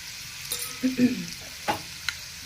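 Turmeric, red chili powder and garam masala hitting hot oil for stuffed okra, a soft sizzle with a few brief spoon knocks and stirring sounds, fairly quiet.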